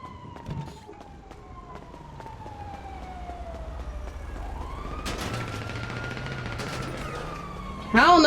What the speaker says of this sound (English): I'm running from the gunfire.